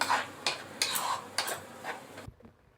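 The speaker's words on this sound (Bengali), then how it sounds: "এবার আমি মশলাটাকে ভালো করে মিশিয়ে নেব" Spice paste being stirred together with yogurt in a bowl for coriander chicken, giving a few scraping, clinking strokes of a utensil at a steady rhythm, close and moderately loud, before falling quiet near the end.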